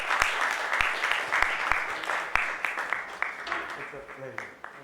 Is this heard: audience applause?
yes